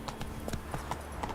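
A horse gallops in The Witcher 3, its hoofbeats a quick, even clip-clop rhythm at moderate volume over a steady game background.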